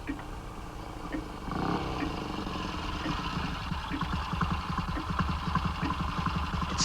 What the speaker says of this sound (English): It's a motorcycle and sidecar. It's pulled up in the courtyard.